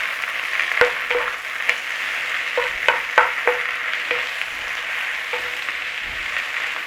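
Spinach with pepper and salt stirred in a hot pan, with a steady sizzling hiss and a few clinks and scrapes from the stirring utensil, close and fairly loud.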